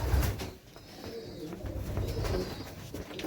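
A young racing pigeon coos in low, throaty repeated phrases close by, with soft flock murmurs and faint rustling behind, no talk.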